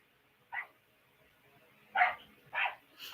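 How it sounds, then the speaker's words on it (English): A dog barking outdoors, three or four short sharp barks spaced irregularly, heard at a distance and fairly faint against a quiet background. "Your dipshit dog is losing its mind outside."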